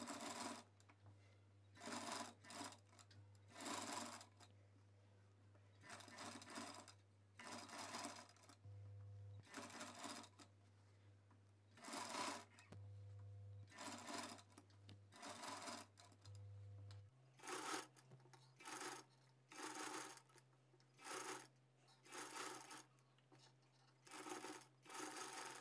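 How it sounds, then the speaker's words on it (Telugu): A sewing machine runs a top stitch along a blouse in regular bursts of rapid stitching separated by short pauses, close and clear, with a steady low hum underneath. "ఇక్కడ పైనుంచి ఒక టాప్ స్టిచ్ వేసుకుంటూ వచ్చేయండి"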